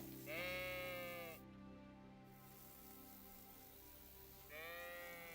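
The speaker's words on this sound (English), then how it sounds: "It looks like you're tending your sheep." Sheep in the video game Kingdom Come Deliverance 2 give two clear, loud bleats, one near the start and one near the end, with a quiet ambient gap between them.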